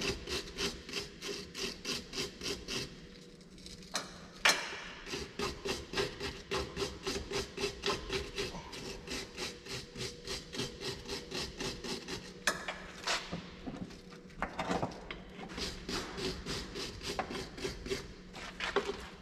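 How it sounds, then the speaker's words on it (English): A wire brush scrubs a Mercedes brake-area part clean in quick, steady rasping strokes, loud and close, with brief pauses between bursts. "so there's a little clean up with the wire brush"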